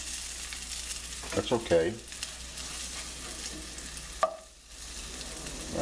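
Sweet potato and fish patties fry in a pan with a steady, soft sizzle throughout, broken by a few clinks of utensils and a brief spoken remark.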